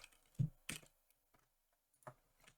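A few sparse keystrokes on a computer keyboard, close and quiet, with short gaps between clicks in an otherwise silent room.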